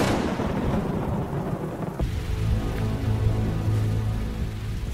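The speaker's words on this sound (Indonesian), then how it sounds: "Di tengah gelap malam dan hujan yang deras, Jessica terus berjalan hingga ia bersembunyi di balik sebuah batu." A film scene of a thunderstorm at night, heavy rain hissing steadily with a loud thunder crack and rumble partway through, dense and close, no voices.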